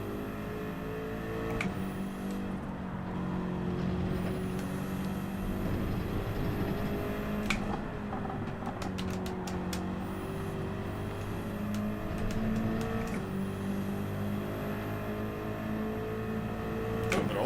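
Group 3 race car in Gran Turismo 7 at Watkins Glen: a droning engine note holds steady, rising and falling with repeated sharp shifts and revving sweeps, fairly faint and heard alone.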